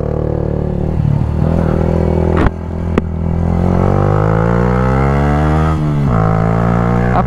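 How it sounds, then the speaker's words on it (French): A motorcycle engine revs loudly up close, rising and falling through several throttle blips with a steady rumbling idle and a couple of sharp clicks, no talking. "À partir de maintenant, je vous laisse juste le son du moteur."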